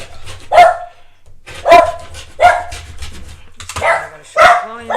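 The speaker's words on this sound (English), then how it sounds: "I'm gonna shut the volume off because of the dog." A dog barks five times in uneven bursts, loud and close, with a faint low hum between the barks and no talking.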